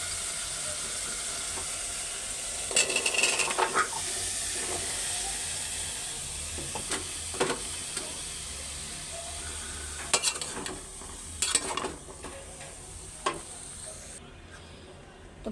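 Vegetable curry tossed into a hot pan with fried spices gives a steady low sizzle and hiss, broken by sharp scraping clicks of a spatula stirring at irregular intervals.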